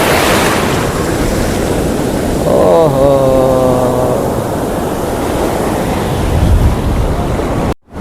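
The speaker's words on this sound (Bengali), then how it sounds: "কি ঢেউ, বাপরে" Ocean surf at Puri beach roars steadily and loudly with heavy wind buffeting the microphone; a man briefly exclaims partway through.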